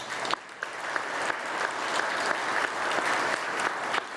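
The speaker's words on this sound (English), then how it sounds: "big round of applause for Medical Mutual" A breakfast crowd honoring Medical Mutual at a Harvest for Hunger recognition event claps steadily throughout, a broad, even wash of applause with a few sharper individual claps standing out.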